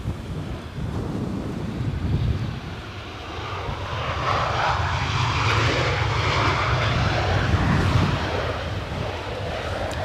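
Airliner landing at Edinburgh Airport in 40 mph+ gusty winds, the jet engines roaring loud and close with a rising, sustained rumble, mixed with heavy wind buffeting against the microphone.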